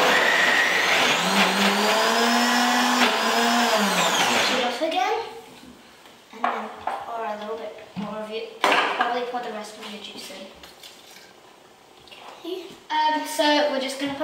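A kitchen blender whirs loudly through a fruity slushy mix for several seconds, its motor pitch rising and falling, then stops; a voice and adult talk follow with short bursts of blending between them.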